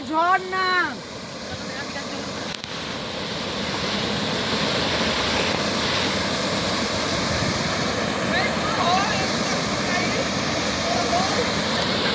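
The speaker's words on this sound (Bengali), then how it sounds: "ঝর্ণা" A park waterfall pours in a steady, broad roar of rushing water that fills the scene, with wind buffeting and a brief voice-like tone at the start.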